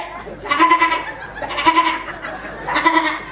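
A man imitates a goat's high bleat with his voice, three wavering nasal cries spaced about a second apart, close and fairly loud.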